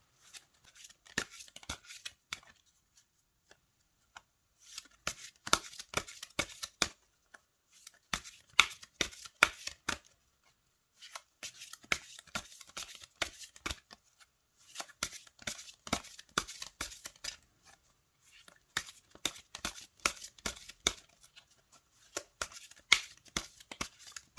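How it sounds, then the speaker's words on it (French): A deck of oracle cards shuffled by hand in repeated bursts of quick riffling and flicking, each lasting a few seconds with short silent gaps between, close and fairly quiet. "Je vais battre les cartes."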